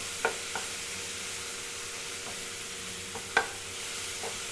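Chillies sautéing in a pan for a Tamil manathakkali keerai chutney, a faint steady sizzle with a few brief scraping stir knocks, no talk.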